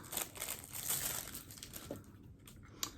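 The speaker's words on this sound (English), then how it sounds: "It's easy for me to unwrap." Crinkling plastic wrap being pulled off a beauty product package holding a tin of collagen under-eye pads, a steady close rustle of crumpling film over about three seconds, with a couple of sharper crackles near the end.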